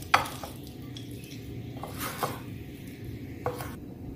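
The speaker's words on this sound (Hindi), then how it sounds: "अब इसे हम मिक्स कर लेते हैं राइस को पूरा इसके साथ" Raw mango rice being stirred and mixed in a pan: soft scraping and spatula clicks with a few sharper taps against the metal, steady and fairly quiet, no voices.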